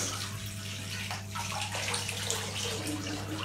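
Running water rinsing a hair wash out of mixed-race hair, a steady close rush like a tap or shower pouring and splashing without pause, with no speech.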